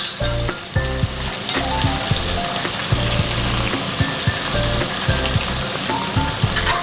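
Chopped onion goes into hot oil already tempered with nigella seeds and fries with a loud, steady sizzle, broken by regular scraping and stirring strokes of a spatula, close up and without talk.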